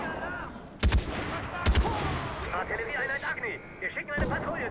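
Sniper gunfire in Far Cry 4 cracks out as a few sharp, widely spaced shots, loud and close, while someone talks excitedly over the game noise between the reports.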